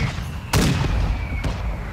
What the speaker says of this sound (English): Drop an airstrike on him.